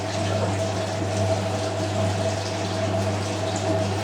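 A Hotpoint 9530 washing machine pumps water out before its first spin on a 40°C wool cycle, giving a steady, close mechanical drone with a constant low hum and a faint watery wash throughout.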